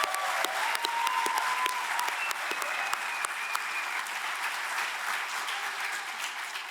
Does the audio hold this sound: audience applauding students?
yes